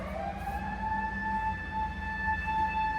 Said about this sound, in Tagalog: Pangalawa na yung ambulance na yan.